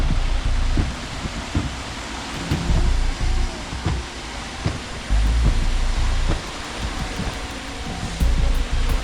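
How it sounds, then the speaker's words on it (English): Thunder rumbles and steady rain fall outdoors during a wet concrete pour, with deep booming rolls recurring every few seconds over a constant hiss of rain. "All right, it's thundering, it's raining."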